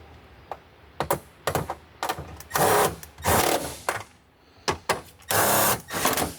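Short bursts of rapid ratcheting clicks, some brief and some longer, start and stop close by as nuts are tightened onto studs at the rear light of a 2010-2015 Toyota Prius.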